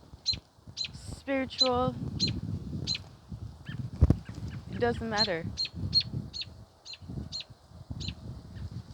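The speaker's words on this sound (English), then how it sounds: "look at these birds, just singing, just making a joyful noise" Birds calling outdoors on a walk, a repeated sharp high chirp sounding at a regular beat alongside a few honking, goose-like calls, all under a man's steady speech.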